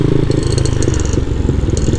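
A bored-up 181 cc Honda Monkey motorcycle runs close and loud while being ridden, its engine giving a continuous throbbing, uneven drone with rattling texture for two seconds.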